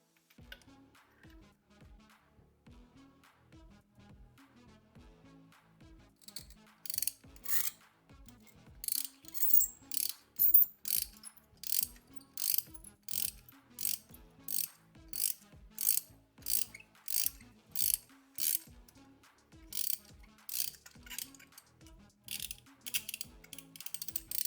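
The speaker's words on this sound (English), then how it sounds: "so just use your spark plug remover" Spark plugs are loosened from a VW Beetle 2.0T TSI engine with a ratchet; quiet ticking clicks at first, then a rapid, regular run of sharp ratchet strokes repeating close up.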